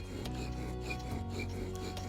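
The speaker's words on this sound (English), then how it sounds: "Once you apply some downward pressure, you'll begin to grind off dust from both the drill and the board." A bow drill grinding against a wooden fireboard under downward pressure, a steady rasping rub with rhythmic back-and-forth strokes repeating roughly every half second, close and continuous.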